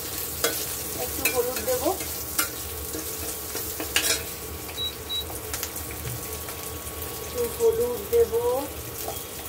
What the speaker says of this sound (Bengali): চলো ঢ্যাঁড়সগুলোকে ভেজে নিই